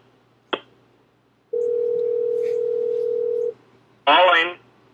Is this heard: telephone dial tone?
yes